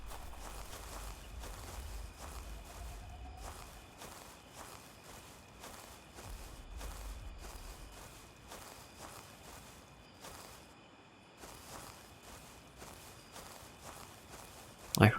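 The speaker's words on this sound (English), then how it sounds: "I heard some footsteps" Steady footsteps in the dinosaur hunting video game Prehistoric Hunt, a faint, even rhythm of soft thuds running throughout against a quiet ambient backdrop.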